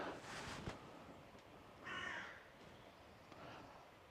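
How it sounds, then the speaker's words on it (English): A crow caws once at a distance in the Welsh countryside, a single faint harsh call over soft outdoor background noise. "I'm guessing that one's a crow."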